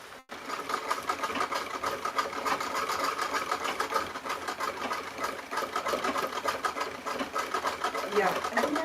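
A sewing machine runs in a continuous steady whir with a dense mechanical patter, close and fairly loud for the whole stretch, with people talking faintly underneath.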